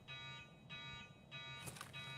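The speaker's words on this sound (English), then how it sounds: "I just realized the alarm that we're currently hearing is the shop under me to the right." A shop alarm rings steadily in the video game Escape From Tarkov, heard from a distance in repeating pulses with faint background noise and no talk.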